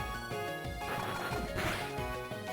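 Bug Bite attack landing in the Pokémon Lazarus video game, a dense crunching smash effect layered over ongoing game music, steady and moderately loud throughout, no speech.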